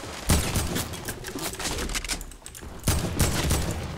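Gunfire aimed at a player in Fortnite, a dense stream of rapid shots that fades briefly midway and then bursts back loud, with no talk over it.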